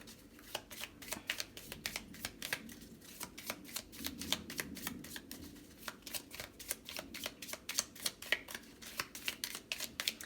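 Tarot cards being shuffled by hand, a long run of quick, close riffling flicks and soft slaps in an irregular rhythm, with no one talking.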